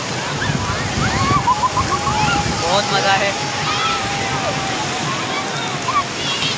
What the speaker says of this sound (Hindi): वो लंबी लंबी लहरें आ रही हैं